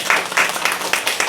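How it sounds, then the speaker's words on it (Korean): A church congregation gives an encouraging round of applause for its cell leaders, loud and close, with the claps falling into a quick, even rhythmic beat and no talking. "우리 셀 리더들 격려의 박수."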